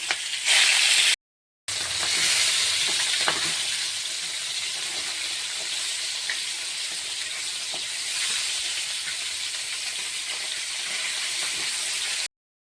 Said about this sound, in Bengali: তেল দিয়েছি তেলটা গরম হয়ে গেছে তারপরে মাছ দিয়ে নেবে